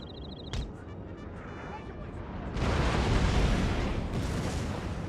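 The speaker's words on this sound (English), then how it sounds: "I think those cannons are actually targeting my general" Heavy cannon fire in the video game Napoleon: Total War rumbles in a dense, continuous barrage of booms, swelling louder midway, with faint battle noise underneath.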